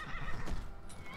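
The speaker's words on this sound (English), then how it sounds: "Just rear my majestic horse." A horse in the video game Skyrim neighs and rears, with a close whinny over a clattering of hooves, fairly quiet and brief.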